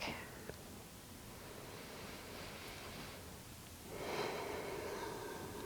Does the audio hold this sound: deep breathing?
yes